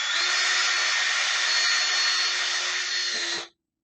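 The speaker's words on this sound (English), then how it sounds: "And I'm just going to drill my hole." A power drill bores a hole through a metal bracket during a Kawasaki KZ400 street tracker build, running at a steady whine for about three and a half seconds before cutting off sharply.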